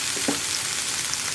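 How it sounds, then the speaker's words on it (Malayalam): Tomato and green chilli mix sizzling as it fries in coconut oil in a pan, a steady close hiss with a brief stir near the start, no voices. "ഇതിലേക്ക് നമുക്ക് നമ്മുടെ തക്കാളിയും പച്ചമുളകും ചേർന്ന മിക്സ് ഇട്ട് കൊടുക്കാം."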